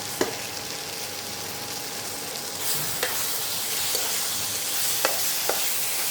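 A paste of ground garam masala, green cardamom, cloves and cinnamon frying for mutton ghugni, producing a steady broadband sizzle throughout with a few sharp clicks of a spoon against the pan.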